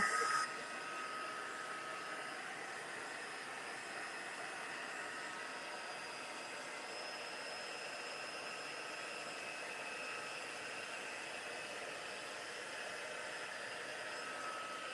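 A heat tool blows steadily while drying a scrapbook layout, a constant close whooshing hiss with a faint high whine that runs unbroken from start to finish.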